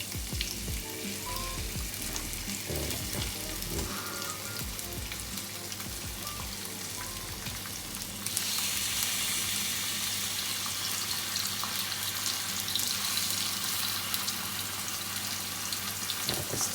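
A hake fillet fries skin-down in butter in a pan with a steady, close sizzle that crackles throughout and swells louder partway through as the fish settles in the hot fat.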